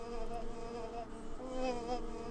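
Bees buzzing in the video game Samorost, a steady, close, droning hum with a slight wavering pitch, heard alone for a couple of seconds.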